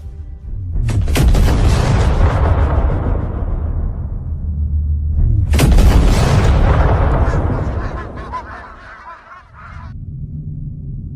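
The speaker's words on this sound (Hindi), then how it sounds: "जब तुम इसे खोलोगे तो एक बहुत बड़ा धमाका होगा" Two huge booming blasts in a film sound effect, one after another, each roaring loudly and slowly rumbling away before a low hum remains.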